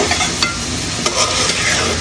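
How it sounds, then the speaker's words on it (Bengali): Tengra fish frying in a pan for a Bengali fish curry, a loud dense sizzle with a few brief stirring scrapes. "এরকমভাবে কষে কষে মাছ ভাজবে।"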